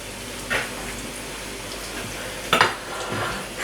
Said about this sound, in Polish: Przełożymy nasze kotleciki. No jeszcze troszeczkę się muszą smażyć.